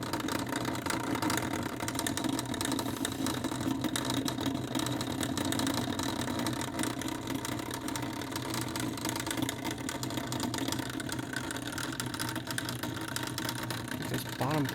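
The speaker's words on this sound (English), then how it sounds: "Gear spinning." A Seeburg 1000 BMU10 background-music player under repair, its mechanism running with gears spinning: a steady, low mechanical whir and hum that continues unbroken, moderately quiet and close.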